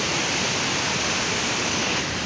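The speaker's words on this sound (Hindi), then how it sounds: "ऊपर से जो पानी आ रहे हैं रोड से, वो झरने की रूप लेके नदियों में जाके मिल रहे हैं" Water pours off a mountain road in Uttarakhand's Uttarkashi area as a roadside waterfall running down to the river, a loud steady rushing roar with no break.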